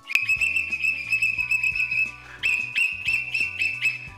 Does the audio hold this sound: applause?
no